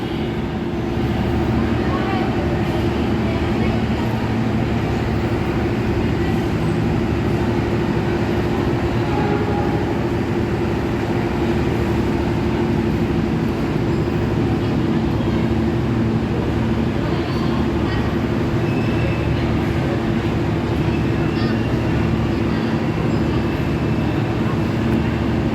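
Steady loud rumble from inside the KA Jayakarta economy premium passenger train travelling from Jakarta to Solo, a continuous droning hum with rail noise that runs unbroken throughout.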